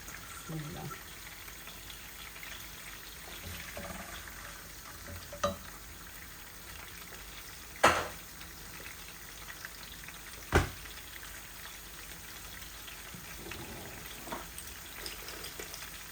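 Garlic fries in hot oil, giving a faint, steady sizzle. A few sharp clicks and knocks stand out, one near the middle louder than the rest.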